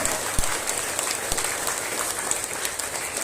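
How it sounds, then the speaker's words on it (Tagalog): A church congregation applauds at an anniversary service: a steady wash of many hands clapping fills the whole stretch, with a couple of low thumps standing out. "Lahat po tayo pumalakpak sa ating Panginoon"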